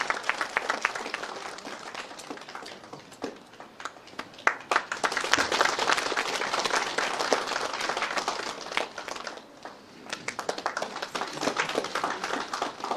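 Audience applause welcoming a dignitary to the dais at an institute day ceremony, a dense sustained wash of many hands clapping that swells midway, dips briefly near the end, then resumes.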